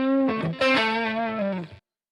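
A distorted electric guitar through a Boss Katana amp rings out with sustained, harmonically rich notes and a slight chorus shimmer, then cuts off abruptly.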